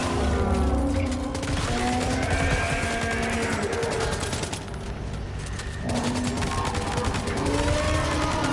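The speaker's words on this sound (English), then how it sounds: "let's switch over to an assault rifle" Assault rifle gunfire in Death Stranding 2, used against a giant BT: dense, sustained bursts of rapid shots, loud and continuous, with a brief lull midway before firing resumes.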